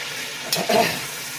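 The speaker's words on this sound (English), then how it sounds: "Now let's stir this around." Food frying in a pan gives a brief stir-and-sizzle, a quick scrape followed by a burst of hissing, close and fairly loud.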